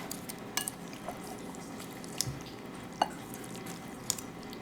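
A spoon stirs pinto beans and neck bones in a crock pot, making a few soft wet clicks and small liquid knocks against low background noise. Nobody speaks.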